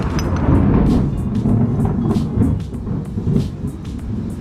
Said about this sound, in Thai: เสียงฟ้าร้องมันดังมาก